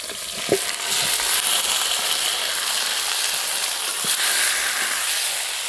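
Country chicken meat hits a pan of frying onions and tomatoes, a loud, steady sizzle with a few clanks of stirring at the start and near the end.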